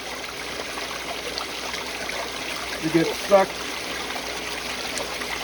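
Water flows steadily through a gold sluice box with riffles and a green mat, a continuous soft trickling wash heard throughout while someone briefly speaks over it.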